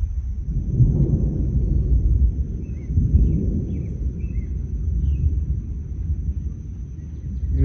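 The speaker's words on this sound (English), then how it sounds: "if you ever heard thunder sounding like that" Deep, rolling thunder from a severe thunderstorm in Parkersburg rumbles low and long in the distance, swelling and fading in waves, with faint bird chirps above it.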